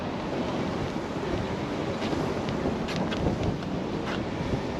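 Wind buffets the microphone in low, rumbling gusts during a ride on a Wallke 26-inch fat-tire e-bike, a constant roar with brief stronger blasts partway through.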